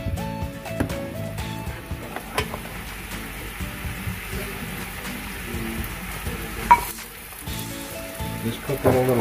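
Shrimp cooking in a pan for seafood lasagna makes a continuous sizzle with light crackles and scraping, and a voice speaks faintly underneath.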